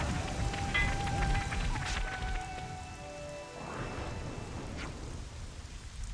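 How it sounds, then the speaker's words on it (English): Rain falls steadily outdoors in a thunderstorm, with a low rumble of thunder beneath it, heard in a Xenoblade Chronicles 3 game scene. A few faint tonal game sounds sit over the rain, and no one speaks. "Apparently it's thunder and lightning outside."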